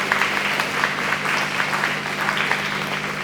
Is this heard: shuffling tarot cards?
no